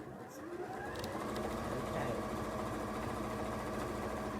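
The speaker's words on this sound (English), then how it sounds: "we will stitch a 1/4 inch seam allowance" A sewing machine stitches a quarter-inch seam allowance on patchwork, its steady mechanical whir running continuously, close but fairly quiet.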